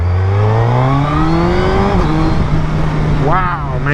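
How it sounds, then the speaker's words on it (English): A motorcycle engine revs up through quick upshifts on a bi-directional quick shifter, its pitch climbing and dropping at each gear change, loud and close, with a brief rising rev burst near the end. "Man, I love this bi-directional quick shifter."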